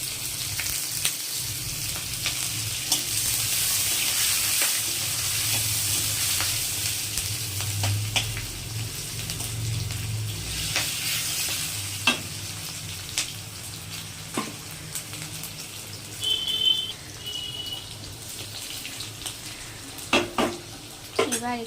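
Onion and green chili fry in a pan with a steady close sizzle for the whole stretch, while a utensil stirs and scrapes against the pan now and then.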